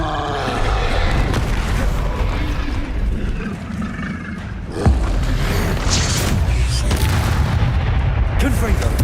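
Spell-casting effects from Hogwarts Legacy, with a fire spell among a loud, dense run of magical blasts and booming impacts, one sharp hit near the middle, continuous and busy throughout.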